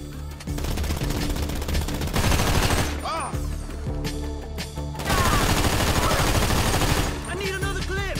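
Rapid automatic gunfire and shotgun blasts in a Grand Theft Auto V shootout, loud, dense bursts running almost continuously with brief gaps, mixed with game sound effects and some shouted voices.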